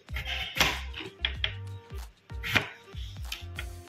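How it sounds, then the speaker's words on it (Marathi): Tomatoes chopped with a knife on a board, a run of sharp, close, rhythmic knocks and slices repeating steadily with no voices. "आता टमाटे चिरून घेऊ।"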